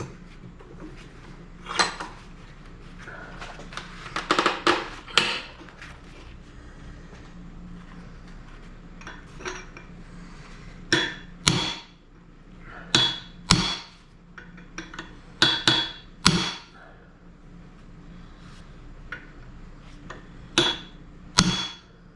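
Sharp metallic hammer strikes knocking soft retaining rings off the rear axle of a 1966 Ford Mustang, close and loud, coming in irregular clusters of blows separated by pauses with faint shop clatter in between.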